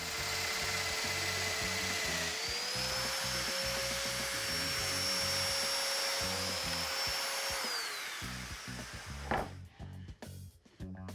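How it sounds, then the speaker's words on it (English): A domino joiner fitted with an 8mm cutter cuts mortises in wood for a mudroom cabinet, a loud continuous motor whine with a rising and falling tone over rhythmic cutting chatter, then it spins down and stops. "Now I can go ahead and make my mortises."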